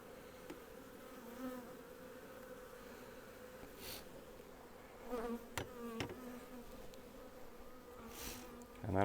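Honey bees from a swarm buzz continuously in a steady low hum as they are installed into a hive, with a few soft knocks and bumps of the wooden frames and box.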